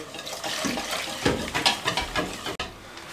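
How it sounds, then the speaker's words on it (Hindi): Water poured into flour in a bowl while mixing a batter for fried chilli chicken, a splashy stirring wash with a few louder sloshes up close, no talking. "थोड़ा सा पानी शामिल करके इसको इस तरीके से इसका घोल एक तैयार कर लेंगे"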